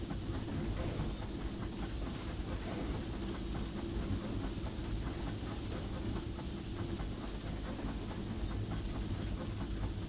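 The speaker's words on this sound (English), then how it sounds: "So we're going to get ready to stop by slowing the train down" A steady, rumbling steam train in the video game Disneyland Railroad Steam Simulator runs continuously with a rhythmic clatter and low mechanical drone, constant and fairly loud throughout, with no voices.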